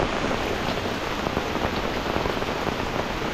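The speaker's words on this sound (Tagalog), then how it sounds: "biglang bumuhos ang ulan ng napakalakas men" Heavy rain pours steadily onto a waterproof tent at a solo campsite, a loud, dense, unbroken hiss and patter close by with no voices.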